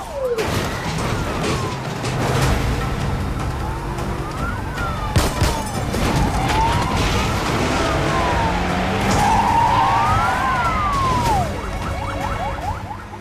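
A police cruiser chase in the action film Extraction, with rising and falling siren wails, screeching tyre skids and revving car engines. The sound is loud and chaotic, with crashes and impacts scattered throughout.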